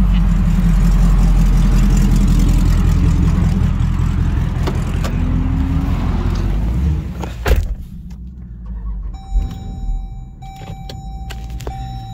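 Chrysler 300 with a straight exhaust, a deep, loud rumbling engine close by that holds steady before easing off, followed by quieter mechanical sounds and a faint tone.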